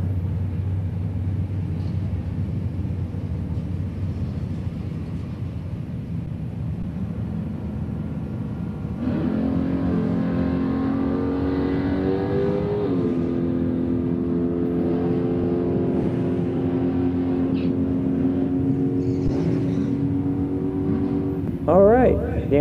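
Drag race cars, including a Camaro and a Chevy LUV, launch and accelerate down the strip at a Wednesday night drag event. A low rumble builds into loud rising engine notes that sustain for several seconds, with an announcer talking throughout.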